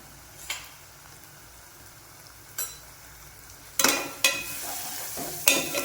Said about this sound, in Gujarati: એને બરાબર મિક્સ કરી લઈએ. 1 મિનિટ સુધી સાતળશું મસાલાને